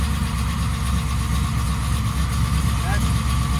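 A 1996 LT1 V8 fitted with Holley Terminator X fuel injection idles steadily on an engine test stand, a loud, even low rumble running throughout while people talk over it.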